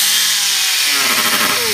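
A power grinder working against sapphire crystal watch glass, a loud harsh high-pitched whine and grinding hiss with a rising tone near the end, close and alone.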